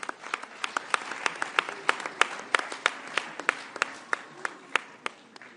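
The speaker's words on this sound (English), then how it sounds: "Let's give them a round of applause." Audience applause at a G20 Leaders' Summit briefing, crisp individual hand claps in a loose, steady rhythm from a modest crowd, fairly clear and close, continuing for several seconds without speech.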